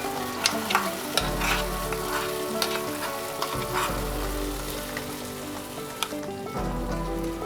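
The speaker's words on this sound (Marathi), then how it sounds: "आपण जे वाटण केलंय ते आता आपण ह्याच्यात घालूया" Ground spice paste sautés in ghee with bloomed cumin over a medium flame, sizzling steadily with repeated stirring scrapes and soft crackles throughout.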